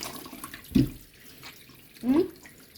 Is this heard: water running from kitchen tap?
yes